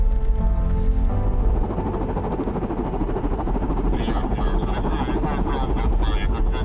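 Loud, steady droning rumble of a helicopter in flight, heard from up close, with a voice talking briefly over the engine noise.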